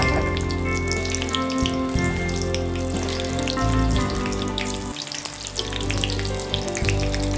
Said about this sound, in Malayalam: തിളച്ചുകൊണ്ടിരിക്കുന്ന എണ്ണയിലേക്ക് രണ്ടാമത്തെ ഫ്രൈയിന് വേണ്ടിയിട്ട് വറുത്ത് വെച്ചിരിക്കുന്ന പക്കോറാസ്